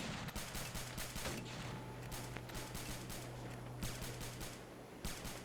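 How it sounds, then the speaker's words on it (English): Video game gunfire in a multiplayer match: rapid bursts of shots from several weapons crackle continuously, overlapping volleys with a low rumbling bed beneath, moderately distant. "Because these guys are all shooting at him."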